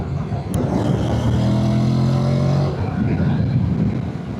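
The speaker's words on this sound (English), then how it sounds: "The sound of this bike is absolutely mega." A 2026 Honda NC750X motorcycle engine drones loud and close while riding over a bumpy road, its steady low hum swelling slightly under constant wind noise.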